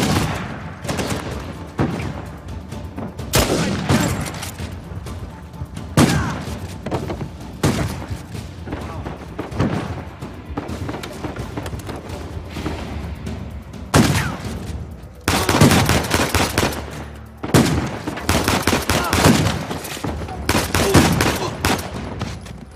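Shotgun fire in Uncharted 4, a PS4 action game: repeated heavy blasts and booming shots across a busy firefight, loud and close, with a voice shouting under the gunfire.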